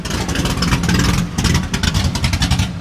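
A classic tri-five Chevrolet engine at a car show revs hard with steady, loud, rumbling low-end bursts and throttle blips, close by and continuous throughout.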